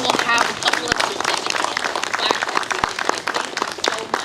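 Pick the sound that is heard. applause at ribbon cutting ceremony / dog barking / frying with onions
applause at ribbon cutting ceremony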